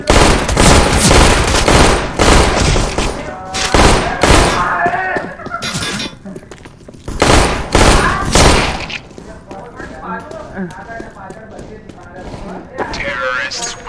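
Gunfire in the video game CS GO, played with infinite ammo, comes as loud rapid bursts of automatic fire and single shots in clusters, separated by brief quieter gaps, with a voice talking underneath.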